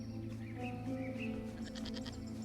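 Sheep bleat a few times in the survival video game Westland Survival, soft wavering calls over a low steady background hum, with no speech.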